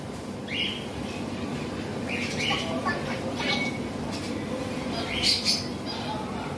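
Birds at a bird-watching spot in Athens, Greece give several short, thin chirps scattered through a steady background hum, with faint voices nearby.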